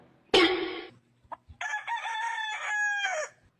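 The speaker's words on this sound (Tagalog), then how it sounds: "Kada tilaok ng manok ko" A rooster crows loudly and close, a sharp opening burst followed after a brief pause by a long, drawn-out cock-a-doodle-doo, with no talking.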